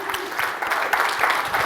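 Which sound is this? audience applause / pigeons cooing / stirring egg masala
audience applause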